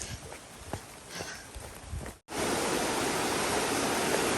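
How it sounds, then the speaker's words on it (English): Roaring river water rushing beneath a slick, makeshift metal bridge on a long-distance hike, a loud steady wash that cuts in abruptly after quieter outdoor ambience with faint footfalls. "Going over a little makeshift bridge here, and the water is roaring"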